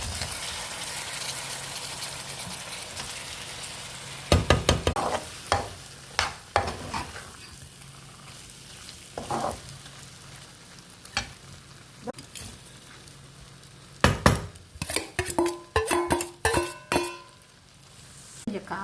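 Prawns being stirred and fried in a pan for homemade prawn pickle, with bursts of sizzling and stirring scrapes and clinks coming in irregular clusters, close and fairly loud against a quieter background.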